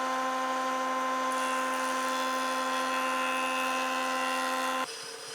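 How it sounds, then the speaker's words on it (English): A bandsaw runs steadily with a tonal motor hum while cutting wood window trim to width, a sustained close drone that shifts and drops near the end as the cut finishes. "The safest tool to cut this piece to width with is the bandsaw."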